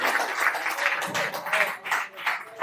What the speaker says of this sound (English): Head coach Clinton Mylymok, everybody, give him a round of applause.